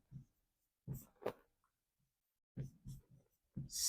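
Chalk or marker writing on a board in a classroom lesson, heard as short scratchy strokes in separate bursts with quiet gaps between them.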